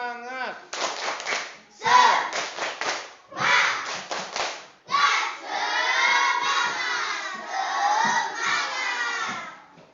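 A class of children repeats the 'tepuk semangat' clapping chant, with clustered rhythmic hand claps followed by a long stretch of loud, excited unison shouting, close and lively.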